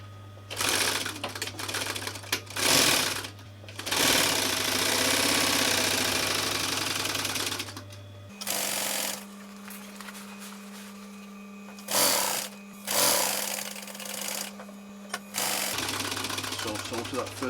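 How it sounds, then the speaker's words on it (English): Sewing machine stitching a camper cushion with a diamond-stitched centre panel, running in long steady bursts with short pauses between them, loud and close, with some talk in between. "So now you just need to sew this together now."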